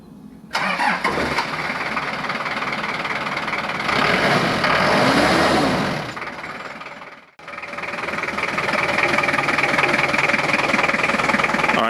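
A noisy car engine cranks and catches, then runs roughly and loudly, briefly cuts out, and restarts into a steady, rough idle.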